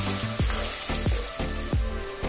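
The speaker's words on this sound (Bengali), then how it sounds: "পেঁয়াজটা মিডিয়াম ফ্লেমে রেখে একটু লাল করে ভেজে নেব।" Onion frying in a pan over a medium flame, a steady close sizzle broken by several brief stirring scrapes at regular intervals, with no talk.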